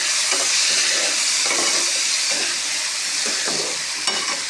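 Chopped tomatoes fry with onions in a loud, close, continuous sizzle, with repeated scraping strokes of a spoon stirring the pan.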